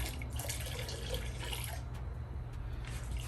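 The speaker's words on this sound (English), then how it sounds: "Now you grab your sponge. It's been sitting in the solution. Squeeze it out a little bit." A sponge soaked in rinseless car wash solution is squeezed out, giving close, steady trickling and dripping of liquid for a few seconds.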